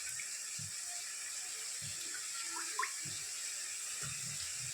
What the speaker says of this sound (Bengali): পনিরটাকে যেটা আমি নিয়ে নিয়েছিলাম জলে ভিজিয়ে রেখেছিলাম তা পনিরগুলোকে আমি তুলে নিচ্ছি